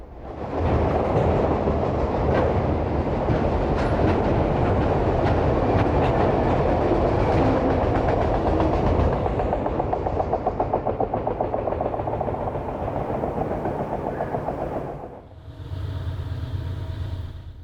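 A CSX freight train with a cut of auto racks rolls past at Tunnel Hill, a loud steady rumble with rhythmic clickety-clack of wheels over rail joints, fading briefly near the end before another close rumble.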